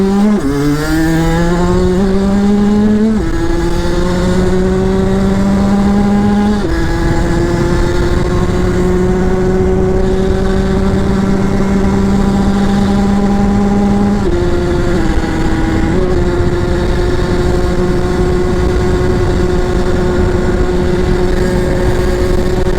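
A Derbi moped accelerates hard through town. Its small engine climbs through rising whining pitches with gear changes, then holds a steady buzzing drone, loud and close over about twenty seconds.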